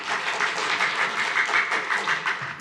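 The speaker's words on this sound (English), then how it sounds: "what we do is we hold our applause" Dense applause from a crowd at a city commission meeting in Delray, a steady wash of many hands clapping for the full stretch, fairly loud and close with no talk over it.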